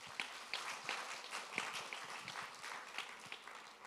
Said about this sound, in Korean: 박수로 하나님께 영광 돌리죠